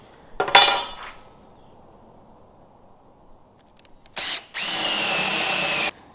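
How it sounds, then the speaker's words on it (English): A power drill bores a hole through a wooden board while building barn doors: a short burst near the start, then a steady sustained drilling whine lasting nearly two seconds, close and loud with quiet gaps between. "So I drill out this first, and then I come back through and drill the hole the rest of the way through the board"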